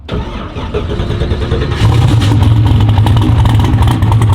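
A turbocharged LS V8 car engine cranks and catches, then settles into a loud, steady rumbling idle with a deep throaty tone, close by.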